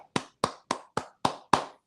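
Six sharp, evenly spaced hand claps, close and loud, each cut off cleanly by silence, offered as applause for a pigeon flier.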